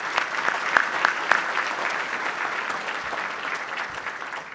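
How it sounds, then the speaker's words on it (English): Audience applause for the Cavalier Singers after their Star Spangled Banner at the 2024 Suffolk State of the City event, a steady roomful of clapping with a few sharper claps near the start, sustained throughout. "Let's give them a big round of applause."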